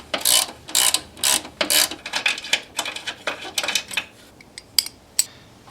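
Quick bursts of ratchet clicking work a 12 mm bolt off the power steering reservoir bracket on a Honda Civic 1.7L SOHC, close-up, several short runs of rapid clicks with brief pauses, growing sparser near the end.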